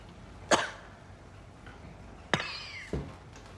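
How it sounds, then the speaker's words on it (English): A few sharp coughs: one at the start, then two more close together near the end, fairly close with quiet room noise between. "I'm sure that cough is Chernobyl created."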